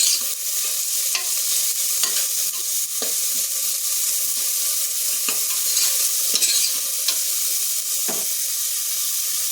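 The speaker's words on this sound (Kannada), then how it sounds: "ಇದನ್ನು ಫ್ರೈ ಮಾಡ್ಕೋಬೇಕು ಸ್ವಲ್ಪ" Spinach and onions for palak rice fry and sizzle in a pan while a spoon stirs and scrapes, steady close frying hiss broken by frequent short stirring clicks and scrapes, with no talking.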